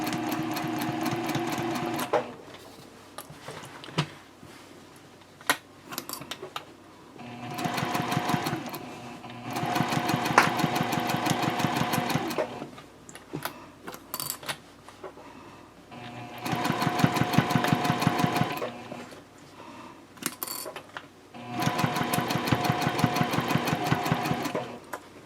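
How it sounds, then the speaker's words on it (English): Sewing machine stitching a straight side seam of a tote bag, steady mechanical whirring in several long runs of a few seconds each, separated by quieter pauses, close and fairly loud. "this sewing down the side is more or less just a straight seam"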